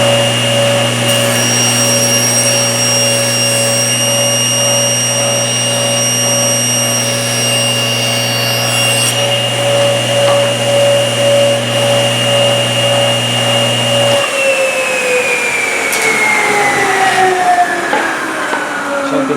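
A power saw whines steadily while its blade makes another cutting pass through wood for an electronics tool box, loud and close; the motor then winds down, its pitch sliding lower as it coasts to a stop. No one speaks.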